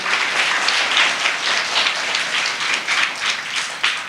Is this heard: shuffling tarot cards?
no